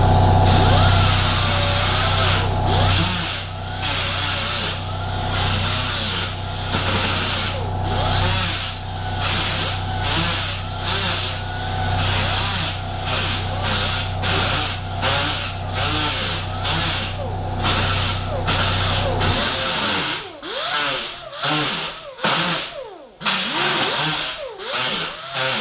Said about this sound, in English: you're just grinding it right up to your Sharpie mark right there